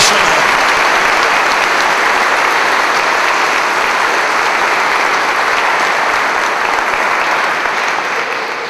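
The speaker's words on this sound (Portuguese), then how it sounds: "Dá uma salva de palmas para esse Deus" A church congregation gives loud, dense applause that fills the hall and holds steady for several seconds before easing slightly at the end.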